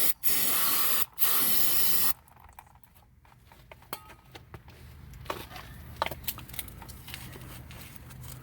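Brake cleaner sprays onto the brake caliper of a 2015 Toyota Camry in two loud, close hissing bursts, followed by quieter dripping and small clicks and patters of the work continuing.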